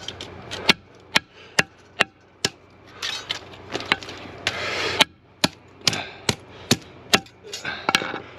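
Repeated sharp hammer blows knock a magnetic metal strip off a scrap copper radiator end. The close, loud strikes come in a steady rhythm, with rattling and scraping of loose metal between them.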